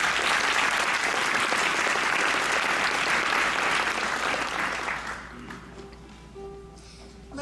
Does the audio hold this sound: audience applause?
yes